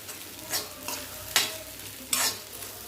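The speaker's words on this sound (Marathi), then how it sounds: "गॅस कमी करून मिक्स करून घेऊया" Soaked sago pearls are stirred in a pan over lowered gas heat, about four distinct scraping sweeps of the spoon standing out over a soft, faint sizzle, with no talking.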